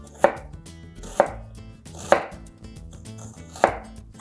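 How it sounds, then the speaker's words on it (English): A knife mincing white onion very fine on a cutting board, four distinct, evenly spaced, crisp chops that ring out loudly against quiet background music. "we're gonna mince it really, really fine"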